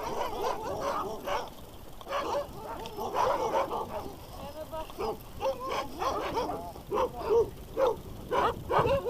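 Sled dogs pulling a dog-bike (cani-VTT) on a trail, giving repeated excited yips, whimpers and short barks at a moderate distance, mixed with a person talking and calling commands.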